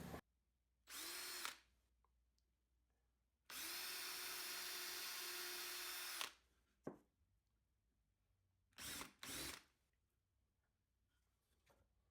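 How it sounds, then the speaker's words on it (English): A power drill with a 5/64 inch bit bores a trigger guard hole in bursts: a short whir, a longer sustained spin of about three seconds, then two quick brief pulses, each close and clear against near silence. "Use a 5/64 inch bit for the trigger guard hole, and use a 3/16 inch bit for the trigger."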